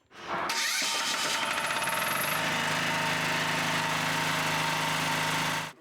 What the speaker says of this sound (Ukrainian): Автономність надає генератор.